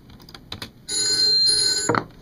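A telephone bell rings as a sound effect in a radio spot: a few faint clicks, then a loud sustained electronic ring that ends in a short clunk.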